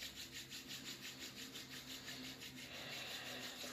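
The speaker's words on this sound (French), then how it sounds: "Frotte les mains." Hands rub together in a fast, even back-and-forth rhythm during a morning exercise session, a soft close brushing swish repeating steadily and faintly, with no talking.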